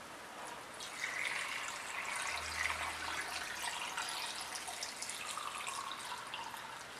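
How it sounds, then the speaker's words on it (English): Vinegar pours into a container to cover rusty parts, a soft steady trickle and splash of liquid at close range, quiet and continuous with no talking. "the next step is going to be to fill this with some vinegar"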